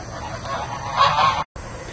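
Tom turkey kept for breeding in a backyard poultry flock, giving a steady, fairly loud run of honking, gobbling calls that swell briefly, with a short silent gap near the end.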